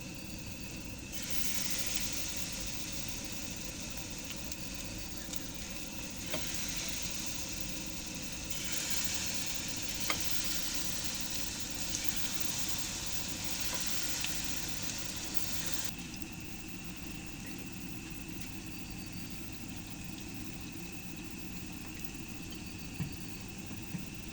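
Potato finger chips frying in hot oil give a steady, broad sizzling hiss that holds for most of the stretch, with no one speaking over it.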